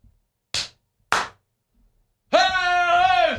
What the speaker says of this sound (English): Got to do the clap.